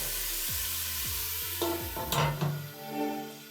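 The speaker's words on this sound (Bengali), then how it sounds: "ঢাকা দিয়ে মোটামুটি আর এক মিনিটের মতো ভেজে নেবো ফুলকপি" Cauliflower frying in oil in a covered pan, a steady close sizzle broken by a few clanking lid and stirring knocks, then softer crackling toward the end.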